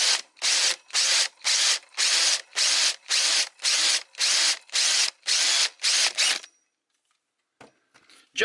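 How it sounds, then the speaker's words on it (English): A power drill runs a bit through a hole in a wooden skateboard deck in about a dozen short, loud bursts with brief pauses between, then stops, leaving near silence with a few faint knocks. "I normally run the drill bit just one more time."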